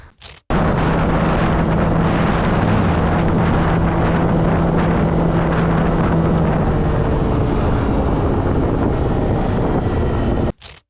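A jet ski engine drones continuously while riding, with heavy wind buffeting the microphone and water rushing alongside.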